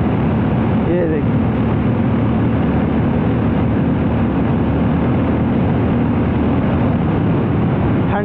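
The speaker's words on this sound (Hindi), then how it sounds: "एग्जॉस्ट आपने सुना ही होगा क्या ही बेहतरीन सा एग्जॉस्ट है" A Harley-Davidson X440 motorcycle cruising at speed past 100 km/h, its engine and exhaust a steady, loud, continuous drone mixed with heavy wind rush, close to the rider, with no break in the sound.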